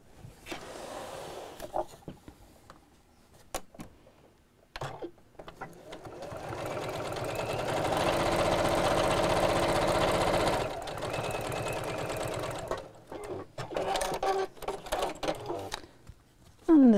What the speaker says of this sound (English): I'll sew down each side with my 1/4 inch seam allowance